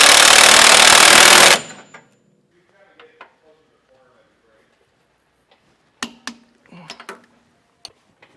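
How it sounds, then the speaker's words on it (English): Socket and wrench tightening end-link hardware on a Hellwig front anti-sway bar fitted to a 2019 Ford F-53. A loud, dense burst of noise opens, then a quiet gap, then a few scattered sharp clicks and knocks near the end. "We'll get all of our hardware tightened and torqued down."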